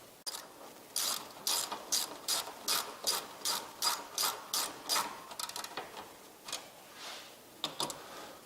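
A ratchet snugs down fasteners on a Bestop Trektop Pro soft top for a Jeep Wrangler, giving about a dozen quick, close, crisp bursts of clicking strokes in a steady rhythm with brief pauses between.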